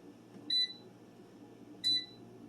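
Two short, high electronic beeps from an air fryer control panel as the preheat time is set, spaced over a second apart above a quiet background hum.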